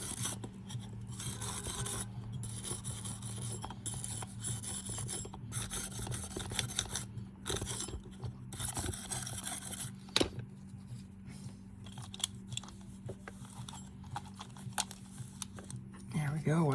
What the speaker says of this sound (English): hit it with this wire brush just to kind of clean this rotor up just a little bit